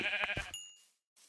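A single close sheep bleat from Minecraft, a short wavering cry that ends in a faint chime and then silence.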